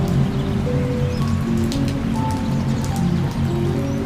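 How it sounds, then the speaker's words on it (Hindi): Steady heavy rain pouring down, a dense continuous hiss of drops hitting surfaces, with no voices. "बाहर अब भी तेज बारिश हो रही थी।"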